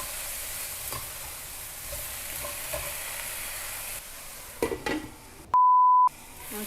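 Vegetables and meat stir-frying in a pan, a steady sizzle with scattered stirring clatters, interrupted near the end by a loud electronic beep tone, with no talking.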